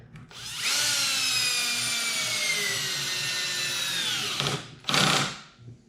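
A power drill drives screws into the wood of a workbench being built, a rising whine that runs steadily for several seconds and then stops, followed by a short second burst, close and clear with no talk.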